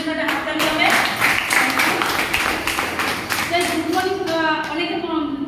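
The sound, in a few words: audience clapping for first-time attendees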